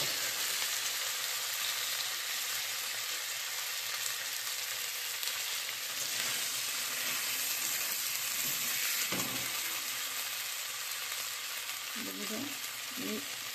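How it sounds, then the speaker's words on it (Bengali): Raw ginger stirred and fried in a pan produces a steady, even sizzle with faint scraping of stirring near the end, heard alone without speech. "আদা যাতে গন্ধটা চলে যায় সেইভাবে একটু নেড়ে চেড়ে ভেজে নেবো"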